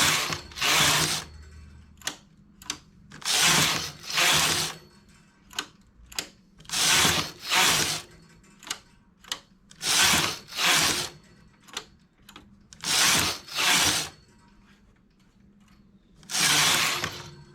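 A domestic knitting machine runs in repeated carriage passes, each a loud rasping, clattering sweep lasting about a second, broken by short pauses and faint clicks, close up with no voices.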